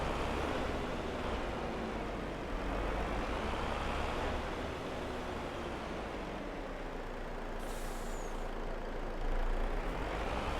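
A truck engine drones steadily in Farming Simulator 22, a continuous low rumble with a faint rising tone partway through and no talking.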